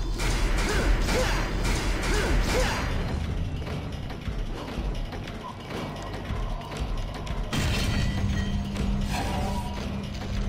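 An elevator mechanism in the video game Devil May Cry 3 runs with a steady, loud mechanical rumble, broken by creaks, clanks and thuds throughout.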